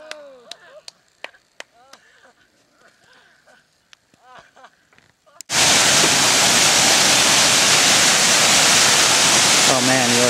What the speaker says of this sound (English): Oh man, you are totally on the top of this waterfall.